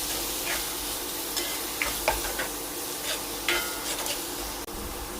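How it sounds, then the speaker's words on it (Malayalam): Chopped snake gourd sautés in oil with onions in a pan, making a dense continuous sizzle with scattered light scrapes and taps from stirring, close and without speech. "ഒരു നാലഞ്ച് മിനിറ്റ് എങ്കിലും ഇതൊന്ന് ഈ എണ്ണയിലൊന്ന് വഴക്കിയെടുക്കണം"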